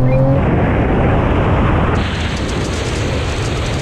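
A loud, roaring engine revs hard with a dense, continuous rush as a rally car, Porsche 911 Turbo S and 1000-horsepower GT-R accelerate flat out close by in a drag race.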